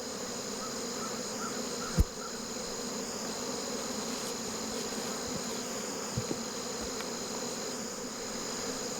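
Swarm of honey bees pouring out of a hive after fuming during a spring honey pull, a dense steady buzzing drone close by, with a sharp click and a few faint knocks over it.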